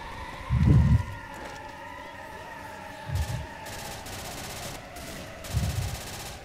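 Gunfire in the zombie shooter Left 4 Dead, with three separate low booming shots spaced a few seconds apart over a steady background hum of game ambience.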